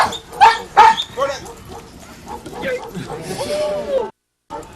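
A police K-9 dog at a sheriff's K-9 demonstration barks and yips in short, loud bursts mixed with a handler's commands and crowd chatter, ending in a sudden brief silence.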